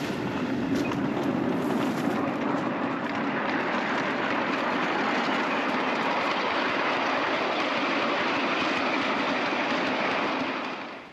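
A miniature railway train runs down the line on freshly laid track over thin ballast, making a loud, continuous rolling rumble close by that fades slightly at the very end.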